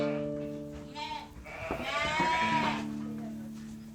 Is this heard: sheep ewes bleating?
yes